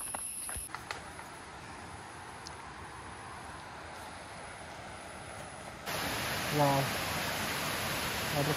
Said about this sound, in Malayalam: ഫാൾസ് ഉണ്ട്,